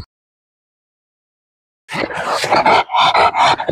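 An English bulldog at a home-breeding dog kennel in Kolkata, giving a sudden burst of rough, throaty growling and barking after a moment of silence, loud and close.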